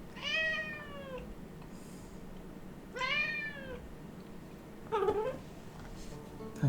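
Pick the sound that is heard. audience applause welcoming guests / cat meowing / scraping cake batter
cat meowing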